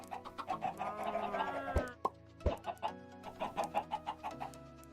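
Chickens cluck in a video game farm, a run of quick rhythmic clucks with a drawn-out squawk early on and a couple of sharp knocks, close and alone.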